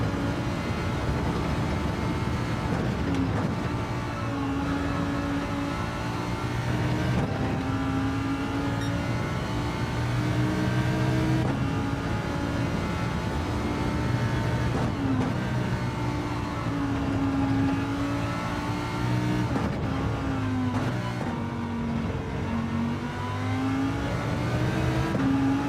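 Lamborghini race car in Gran Turismo 7 roaring continuously, its engine note rising and falling through repeated revs and gear changes in a loud, sustained drone with no talking.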